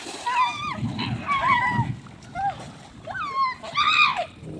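People bathe in a river, splashing and sloshing the water, while excited high-pitched voices shout and call out over the steady close splashes.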